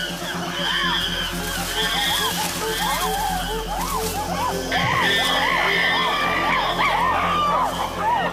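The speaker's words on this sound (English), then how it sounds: "the aggressors scream and drum on buttress roots" Wild chimpanzees scream in a chorus of hoots and shrieks as they attack rivals, with dense overlapping calls and thumping beneath them.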